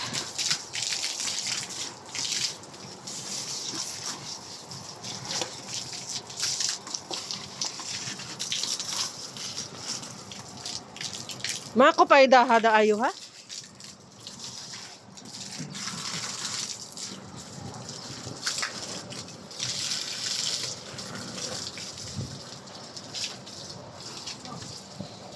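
Water runs from a tap in a home in Kuwait, a steady, fairly faint gushing that carries on throughout, with a person briefly speaking partway through.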